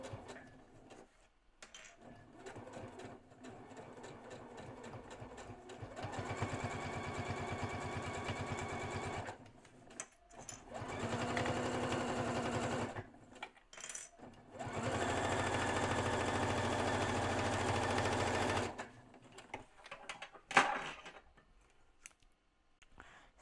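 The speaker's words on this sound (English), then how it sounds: "Once you have that clipped, you're going to sew along the top edge again." A sewing machine stitches along the top edge of a zipper pouch in several bursts of rapid, even whirring, with short pauses and small clicks and handling noises between the runs.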